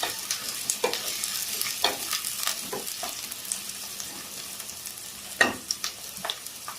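Chopped green chillies fry in hot oil for an egg pulusu, a steady sizzle broken by sharp scraping strokes of a spoon stirring the pan, with a few louder clatters near the end; no one speaks.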